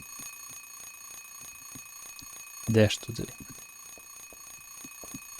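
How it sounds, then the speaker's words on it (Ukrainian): An alarm clock in Silent Hill 3 gives a brief loud ring burst lasting about half a second, with someone speaking quietly before and after. "Будильник."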